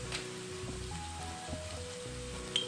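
Masala spices hit a hot pan of shallots and garlic for a shredded fish stir fry, giving a faint, steady sizzle that lasts throughout, with a soft tonal music bed underneath.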